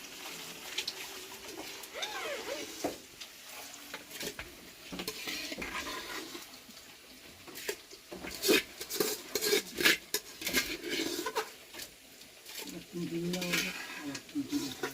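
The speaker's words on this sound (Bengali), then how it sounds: "আমি এখানে আলুটা একটু নাড়াচাড়া করে ফেলি" Potatoes stirred in a pot while cooking biryani, with soft scraping and clinks of a spoon against metal and a faint sizzle, irregular and close, mixed with people talking nearby.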